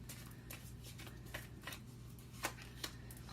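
Tarot cards being shuffled and drawn, a soft continuous riffle with a few brief crisp snaps as cards are pulled, fairly quiet over a low steady hum.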